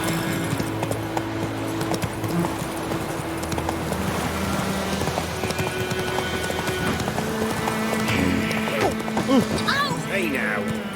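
Roach the horse in The Witcher 3 trots with steady clip-clop hoofbeats throughout, under voices talking and ambient background sound.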